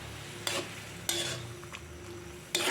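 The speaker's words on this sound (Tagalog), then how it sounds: "Para halo-haloin natin. Para magiging chocolate na siya." A spoon stirs dark dinuguan, a pork blood stew, in a pan, scraping and clattering in a few distinct strokes spaced over a soft background sizzle, near and without voices.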